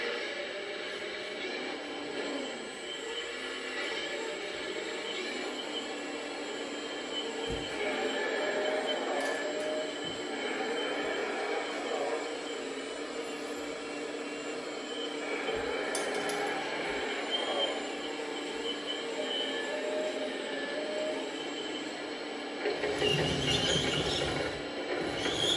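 Built-in sound module on an RC excavator model runs steadily for about 25 seconds, giving a continuous electronic engine-and-machinery drone with faint ratcheting clicks, fairly quiet and close.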